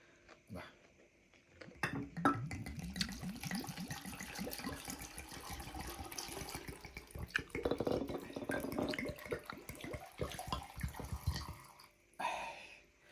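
Bacardi and Absolut pour and gurgle steadily into a hollowed pineapple for several seconds, a close, bubbly glugging with small drips at the end.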